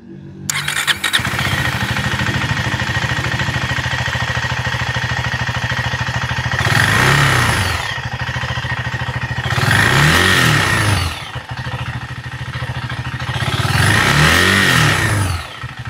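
A KTM Duke 390 motorcycle idles with a steady low rumble, then the throttle is blipped three times, each rev swelling loudly and falling back to idle.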